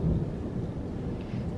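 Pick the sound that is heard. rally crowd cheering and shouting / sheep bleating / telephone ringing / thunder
thunder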